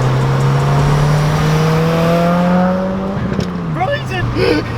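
A Subaru WRX widebody holds a steady revving engine drone, then drops off with a few sharp crackling exhaust pops near the end, while voices talk over it.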